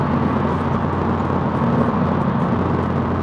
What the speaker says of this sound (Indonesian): mobil ini punya suara mesinnya agak aneh